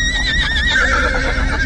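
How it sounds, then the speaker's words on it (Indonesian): A horse neighs loudly and close by, a long wavering whinny that fills the moment, with faint hoof clip-clop from an approaching horse-drawn carriage underneath. "suara kereta kuda tadi terasa makin dekat"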